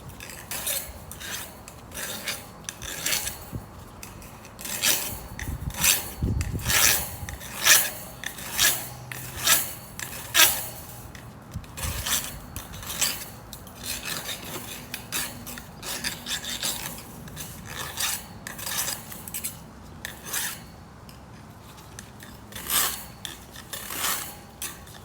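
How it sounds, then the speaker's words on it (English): A hand file rasps around the cut end of soft metal wire on a weed cage, rounding it off in a steady run of short, close strokes with brief pauses between. "come in with the side of your file and then give it like a circular shape like that"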